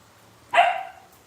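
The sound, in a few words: dog barking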